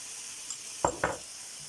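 Chicken breast meat frying in a pan gives a faint, steady sizzle, broken by two brief, close scraping knocks in quick succession.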